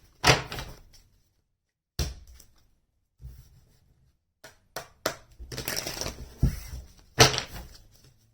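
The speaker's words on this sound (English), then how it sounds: "One more shuffle. I get 3 cards." Tarot cards are shuffled in several short, crisp bursts of riffling and slapping, separated by brief pauses of quiet.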